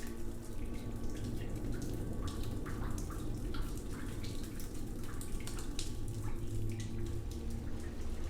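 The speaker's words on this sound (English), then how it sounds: "every drop dripping from the ceiling has its own sound" Water drips from the ceiling of a hallway in The Butterfly Sign, an Unreal Engine 4 game, as a steady patter of small drops over a constant low hum, with no voices.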